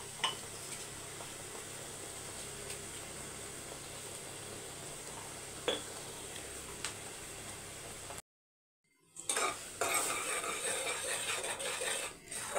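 A tomato mixture with salt is stirred in a pan for a soy-chunk tomato pickle: soft sizzling with occasional spatula scrapes and clicks, then a brief silent break before a louder burst of stirring and frying.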